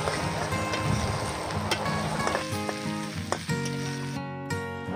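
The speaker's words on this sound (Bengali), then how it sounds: "পেঁয়াজ লঙ্কা সহ শুটকি মাছ খুব ভালো করে ভেজে নেওয়া হয়ে গেছে" Dried fish fries with onion and chili in a pan, making a continuous hissing sizzle over a steady tonal background, with stirring noises near the end.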